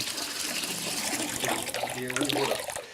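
Water pours from a tap into a bathtub to soften a wooden plank for bending, a steady splashing gush close by, with someone talking over it.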